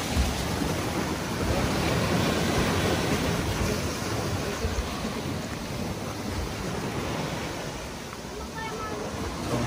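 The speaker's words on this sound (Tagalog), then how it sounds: "Ang lakas ng alon." Strong ocean waves surge and crash against seaside rocks up close, producing a loud continuous roar with wind buffeting the microphone.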